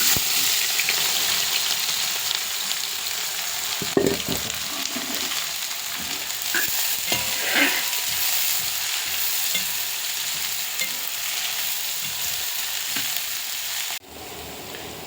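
Onions frying in an uruli for chicken curry give a continuous loud sizzle and hiss up close. A few light scrapes of stirring come through, and the frying drops slightly near the end. No one speaks.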